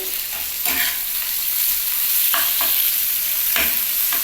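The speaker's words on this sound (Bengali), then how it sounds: "আমি এর মধ্যে একটুখানি পেঁয়াজটা নেড়ে নিলাম এর মধ্যে টমেটোমের কুচিটাও দিয়ে দিয়েছি" Chopped onion and tomato fry in a pan with a constant sizzle, punctuated by several crisp scrapes of a spatula stirring against the metal; no one speaks.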